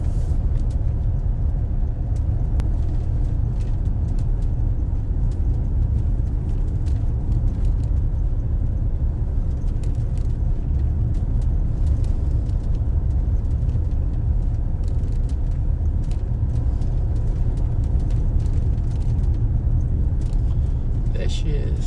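A car drives slowly along a busy road near the Bayon temple at Angkor Thom, Siem Reap, Cambodia, with a steady low engine rumble and road noise running throughout amid crowd sounds.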